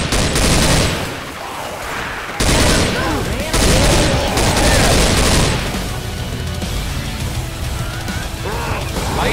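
Rapid automatic gunfire rattles in Left 4 Dead 2 during a fight with a Tank in the Swamp Fever campaign, loud sustained bursts with brief pauses between them, mixed with heavy impacts and voices talking over the shooting.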